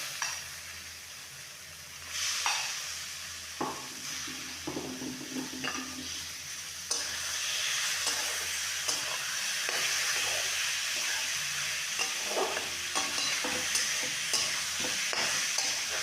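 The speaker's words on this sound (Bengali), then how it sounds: "এইভাবে চিকেনটাকে 10 মিনিট কষে নেব।" Chicken mince fries in a pan with a bright, steady sizzle, broken by scraping stirs and clacks of a spoon against the pan, close and with no talk.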